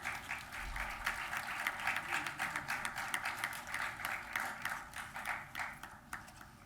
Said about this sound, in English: Everyone, please give them a big round of applause.